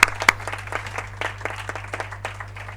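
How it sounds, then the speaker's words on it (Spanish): Applause from a small conference audience, scattered claps in quick succession with a couple of sharper ones at the start, fading slightly. "Yo les doy un aplauso por el buen trabajo que están haciendo."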